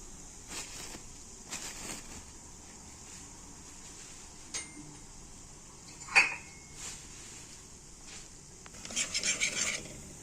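A spoon stirs turmeric, curry powder and a little cinnamon in a pan, making sparse metallic clinks and scrapes that grow into a quick clatter near the end, with faint talking in the background.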